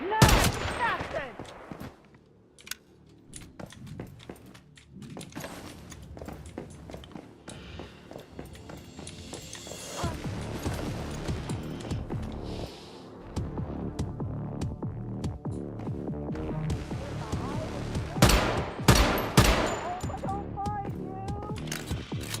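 Video game gunfire: bursts of automatic fire and single sharp shots crackle across a long battle, loud and close at times, with a brief quiet lull early on and dense volleys toward the end.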